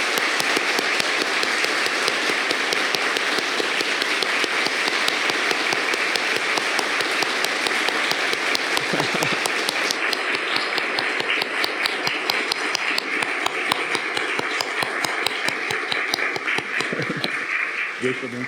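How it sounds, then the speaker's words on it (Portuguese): Audience at a spiritist centre's anniversary celebration gives sustained, dense applause, many hands clapping continuously and loudly, with voices speaking over it. "eu vou pedir uma salva de palmas a esta casa"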